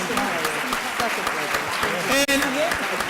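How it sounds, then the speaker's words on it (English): A conference audience applauds a business leadership panel with continuous, dense clapping and scattered cheers, while a voice talks over the applause. "while you're in the mood to applaud and stand"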